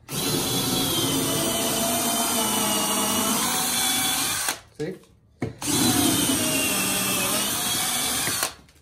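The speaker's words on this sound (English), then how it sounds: "we're going to drill some holes in this 4x4 post" A power drill bores holes into a clamped 4x4 wood post, running loud and steady for several seconds, pausing briefly, then grinding on again before stopping; a voice speaks briefly.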